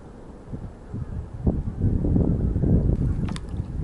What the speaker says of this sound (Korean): 아니 왜 바람이 이렇게 앞에서 불어대는지 참